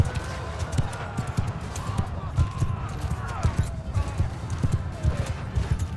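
Rapid clip-clop of a galloping horse in Mount & Blade II: Bannerlord, steady and rhythmic, with faint whinnies and a voice talking over it.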